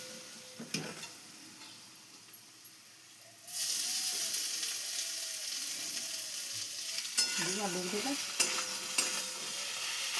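Soya chunks fry in oil in a pan, heard as a quiet sizzle at first that turns into a louder, continuous hiss partway through, with occasional stirring scrapes and a brief faint voice near the end.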